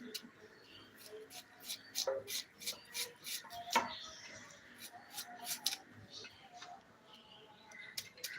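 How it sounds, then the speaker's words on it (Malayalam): A knife cuts onions on a board in a home kitchen for a chicken fry, giving a steady run of crisp, quick chopping strokes up close, with faint background noise between cuts. "ഉള്ളി ഒന്ന് അരിയട്ടെ ഉള്ളി ഒന്ന് അരിഞ്ഞ് റെഡിയാക്കിയിട്ട് നമുക്ക് മറ്റുള്ള കാര്യങ്ങളിൽ കടക്കാം"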